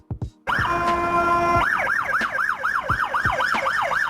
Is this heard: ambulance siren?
yes